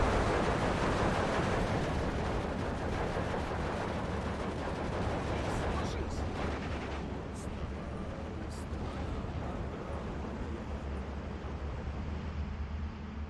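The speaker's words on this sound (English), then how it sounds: "these 120mm mortars have the potential to do so much damage. They land some good hits here" 120mm mortar shells from Steel Division 2 land in a dense, continuous barrage of rumbling blasts and crackling impacts with no clear gaps, loud throughout and easing slightly toward the end.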